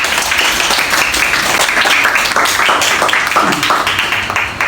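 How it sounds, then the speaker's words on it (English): Audience applause at a group peace-conference performance task, a dense wash of clapping that runs steadily and loudly through the whole stretch, with faint voices mixed in. "Please give him a round of applause."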